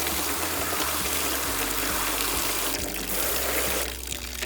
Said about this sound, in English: I'm going to go ahead and just spray the water over the LeafSolution panel.